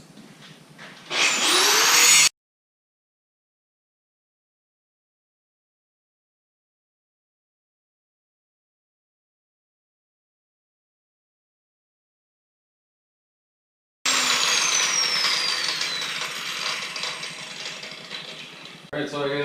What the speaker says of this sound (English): I'm going to start grinding these down and see what they look like.